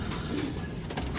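Racing pigeons coo in a short, soft low burst close by, with a faint rustle and no talking.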